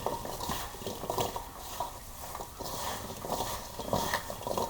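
Sliced apples are tossed and stirred with a sugar and spice mix for a cobbler, a soft, steady clatter of utensil against bowl with scraping strokes, fairly quiet and without talk.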